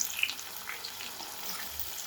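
Tomatoes hit a hot tempering for Kathiyawadi Girnari khichdi, giving a soft, continuous sizzle and hiss that stays steady and fairly quiet.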